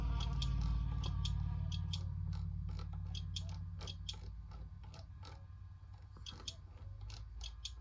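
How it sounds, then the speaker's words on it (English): Gearbox bolts tightened with a 7mm spanner in the My Summer Car game, a run of short metallic ratcheting clicks in quick bursts over a low, fading engine-like hum. "let's tighten all of the bolts on this"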